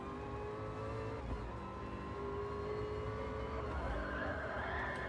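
Ford GT40 race car in Gran Turismo Sport heard onboard during a Ford GT Cup session: a steady engine drone with rising pitch through acceleration, plus some tire skid noise, continuous and fairly quiet throughout.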